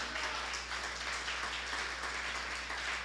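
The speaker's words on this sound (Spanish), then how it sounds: "Dale un fuerte aplauso a Cristo." A church congregation claps and applauds together in a dense, steady burst of hand claps that carries evenly through the room for a few seconds, with no voices heard over it.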